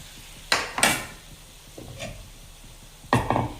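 Fish fries in a pan with a low steady sizzle, broken by several sharp clattering knocks of a utensil against the pan, close and fairly loud.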